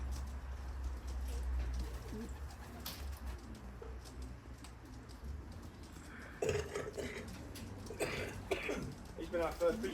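Racing pigeons in a loft give low, soft cooing calls, faint and partly buried under background hum, with people talking nearby toward the end.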